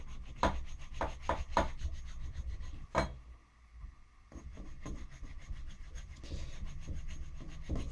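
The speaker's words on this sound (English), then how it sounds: "Keep the file flat." A metal file rubs over an aluminium Anglepoise 1227 lamp arm patched with body filler, making soft rasping strokes in uneven rhythm with a short pause midway; quiet and close.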